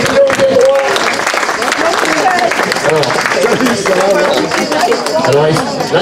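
An audience applauds the participants at a best-aioli contest in Saint-Mandrier, a dense burst of clapping mixed with crowd chatter and voices throughout.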